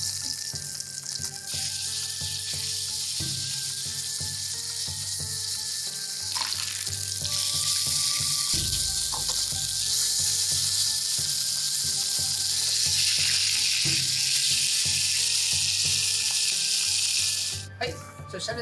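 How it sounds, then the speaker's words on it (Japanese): Pork belly sizzles fat-side down in a frying pan, a dense, steady crackle and hiss that swells louder midway and persists throughout, with faint kitchen clatter near the end. "油の部分からフライパンに乗せていきます。"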